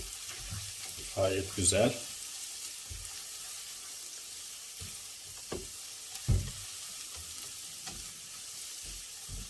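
Onions and peppers fry in a pan for menemen, a Turkish egg and tomato breakfast dish, with a steady soft sizzle and a few scraping stirring knocks; someone speaks briefly near the start.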